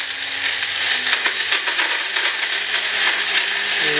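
An electric coffee grinder whirs steadily as it grinds almonds, a bright, high-pitched buzzing with rattling and clicking of nut pieces inside, continuous and close for the whole stretch with no talking.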